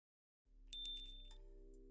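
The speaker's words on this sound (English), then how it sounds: "The bell over the door chimes as I enter" A shop bell rings as a door opens into a diner in the Twin Coves video game, several bright clear chimes over a low steady hum, the ringing fading over about a second.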